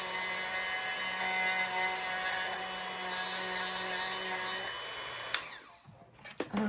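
A Dremel rotary tool grinds and smooths cured UV resin on a small metal jewelry bezel, a steady close high-pitched whine for several seconds before it spins down and stops, followed by a few light handling knocks.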